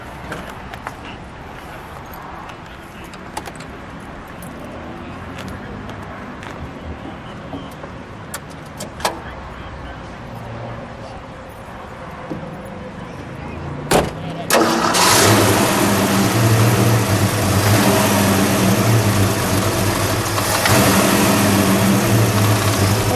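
After a stretch of quiet handling noises, a Ford 260 V8 in a 1964 Ford Falcon Sprint Convertible cranks and fires up, then settles into a loud, rumbling, steady idle.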